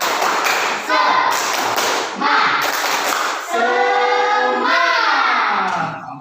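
A class of pupils claps a rhythmic spirit clap, bursts of quick claps separated by short pauses, with voices chanting along between them.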